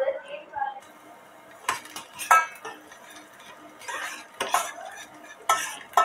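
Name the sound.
garlic sautéing in oil in a pan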